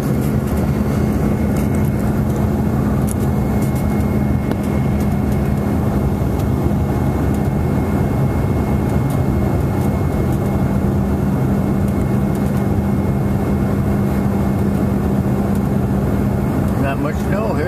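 Steady, loud airplane cabin drone in flight, a constant low engine rumble and airflow hiss that holds unchanged throughout with no breaks.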